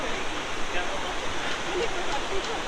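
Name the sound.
river flowing in the mountains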